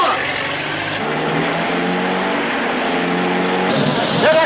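A car engine drones and accelerates steadily during a chase in a 1939 film, a continuous mid-pitched roar with old film hiss, building slightly at the end.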